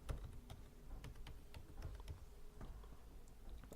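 Someone types a password on a computer keyboard, producing a quick, irregular run of close, crisp key clicks and taps over a low background hum.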